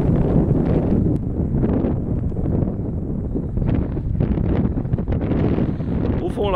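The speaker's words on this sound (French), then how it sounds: "il y a du vent" Steady wind on the Mont Morbié summit near the Aillon ski slopes roars and buffets the microphone, a dense low rumble with gusty surges that never lets up.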